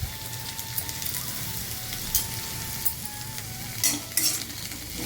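Shallots and green chillies sautéing in a pan for Madurai-style thanni chutney, a steady close sizzle with occasional louder crackles and stirring scrapes, no voices.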